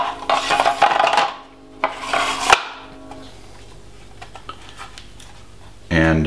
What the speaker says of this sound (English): apply upward pressure while you're putting on the retaining nut